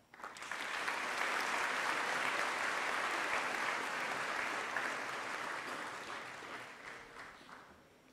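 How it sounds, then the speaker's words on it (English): Graduation ceremony crowd at Shanley High School's 2017 commencement claps for the graduates, a broad, even wash of applause that swells quickly, holds, then fades, somewhat distant. "let's give our graduates another round of applause, please"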